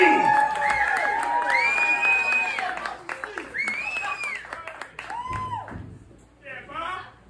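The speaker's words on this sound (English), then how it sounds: "Big round of applause for Bob C." A comedy show crowd applauds and cheers as a comedian is introduced: a steady wash of clapping with a loud host's voice over it, tapering off near the end.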